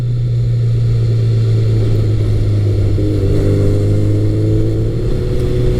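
Honda CBR1100XX Blackbird motorcycle engine pulling hard under acceleration, a loud steady drone that rises in pitch partway through, close and continuous with no talking.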